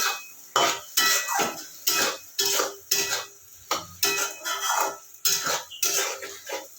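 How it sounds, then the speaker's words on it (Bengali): Chopped tomato is stirred into hot oil in a pan for a fish roe curry, with a spatula scraping in a steady, regular rhythm of distinct strokes, close and fairly loud, with no talking. "এবার আমি দিচ্ছি টমেটো কাটাটা টমেটোটা দিয়ে ভালো করে কষিয়ে নেব"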